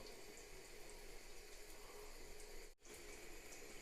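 An ancient electric shower sprays water in a steady, unbroken rushing hiss, close and even, with one brief dip in the flow and no voices.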